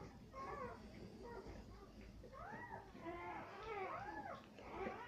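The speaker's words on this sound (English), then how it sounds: "She's a good dog." A German shepherd whimpers and whines softly in a series of rising and falling cries while delivering her first litter of pups, faint and close, with people talking quietly alongside.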